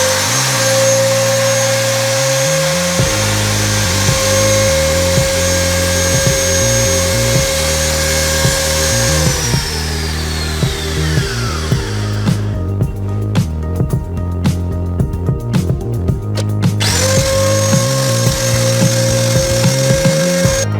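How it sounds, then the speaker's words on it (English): A drill rigged as an improvised lathe turns an old screwdriver being shaped into a clutch alignment tool for a 2012 Fiat 500, giving a loud continuous motor whine with steady pitch and grinding scrapes, a brief pitch drop and a rougher interval midway. "This is improvised lathe machine."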